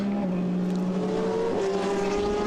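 Race cars lap a circuit as a Ferrari passes, a continuous droning engine note whose pitch steps and shifts as the cars go by, loud throughout.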